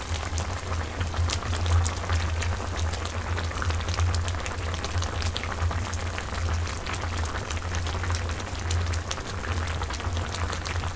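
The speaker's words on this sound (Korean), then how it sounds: "보글보글보글." Korean budae-jjigae army stew with ramen noodles simmering in a pot, giving a steady, close bubbling and sizzling hiss with soft popping that continues evenly and loudly throughout, with no talking.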